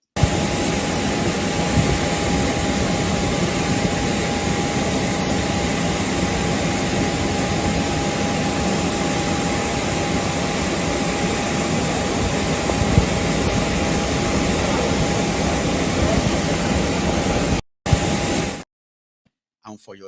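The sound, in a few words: jet aircraft engine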